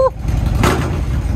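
A Harley-Davidson Road King CVO idles with a low, rumbling throb through its exhaust pipes, close and steady, with a brief voice at the start.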